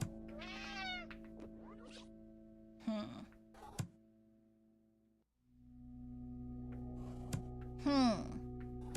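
Several cartoonish cat meows sound in the puzzle horror game Slayaway Camp, set against a steady looping synth backdrop with a few clicks and a brief pause in the music.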